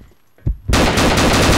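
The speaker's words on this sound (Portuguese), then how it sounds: "Nossa, entrei na frente do tiro do Jeremias" Dense automatic gunfire from the online shooter Combat Arms, a brief pop followed by a loud, continuous rattling burst that fills the rest of the moment, with no talk.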